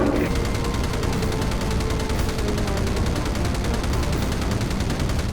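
Gunfire in Battlestations Pacific, a World War II naval and air combat game: continuous dense rattling of rapid machine-gun fire, loud and unbroken throughout.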